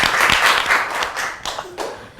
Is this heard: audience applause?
yes